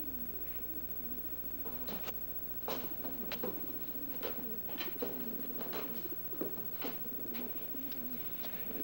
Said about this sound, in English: It's those pigeons.